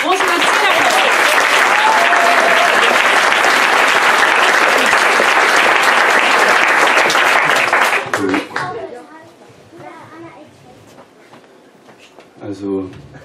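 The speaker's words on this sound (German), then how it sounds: "Bitte großen Applaus." Audience applause at a poetry slam held in a hospital, a loud dense clapping crowd for about eight seconds before it fades into scattered claps, murmurs and a few voices.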